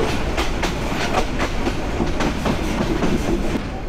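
Balaka commuter train slowing as it pulls into Tongi Junction, heard from on board: steady loud rumble with rhythmic clickety-clack of wheels over rail joints throughout.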